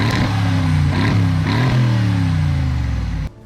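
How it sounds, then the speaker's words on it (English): A deep, throbbing twin-turbo V8 engine of a Mercedes G-Class revs loudly in a few surging pulses, its rumbling exhaust note rising and falling before cutting off abruptly. "Massive V8 engines, twin turbos, exhaust notes that could shake glass."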